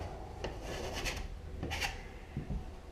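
Sanding of drywall by hand, heard as close, dry rubbing and rasping strokes in an irregular rhythm, fairly quiet, with no talking.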